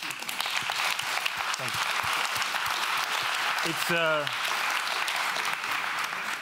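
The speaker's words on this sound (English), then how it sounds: "Let's give them a round of applause." An audience at a talk event claps steadily throughout, a dense, moderately loud round of applause, while a speaker briefly says thanks over it.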